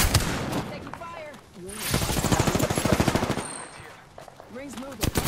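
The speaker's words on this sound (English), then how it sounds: "Taking fire." Rapid automatic gunfire from the Apex Legends video game rattles in bursts, loud then fading and returning, with game voice callouts and effects over it.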